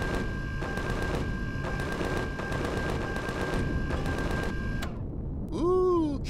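Rapid bursts of cannon fire from a hostile drone in the space survival game Empyrion, a steady rattling volley of repeated shots over a sustained tone, ending in a brief gap and then a rising electronic whine.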